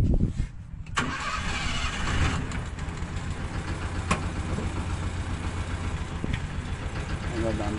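A car engine cranks and catches during a driving lesson, then settles into a steady rumbling idle close by, with voices talking over it.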